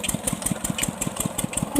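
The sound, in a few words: water pump engine idling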